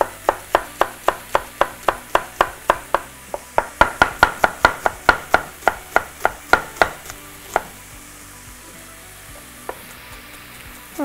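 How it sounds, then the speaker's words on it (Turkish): A knife chops onion quickly on a cutting board, a fast run of crisp taps that speeds up, then slows to a few scattered strokes before stopping. "Soğan yine yani yemeklik doğrayabilirsiniz."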